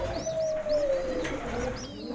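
Pigeons in a loft, including a young cream-yellow homing pigeon, give soft repeated coos with brief chirps, close and clear over a light background hum, with no speech.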